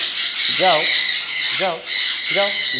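An expensive pet bird squawks after being hand fed, three loud harsh close calls spaced about a second apart over a steady background hum.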